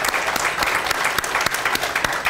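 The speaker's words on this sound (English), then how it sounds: "they deserve just a round of applause." Audience at a school quarterly program breaks into sustained applause, dense overlapping claps continuing steadily throughout, fairly close and loud with no voices standing out.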